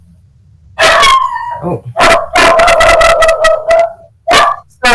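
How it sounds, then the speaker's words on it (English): A dog barks repeatedly in loud, close bursts during an online workshop, a few sharp yips and whimpers mixed in, with a person's brief exclamation over it. "Sorry, my dog."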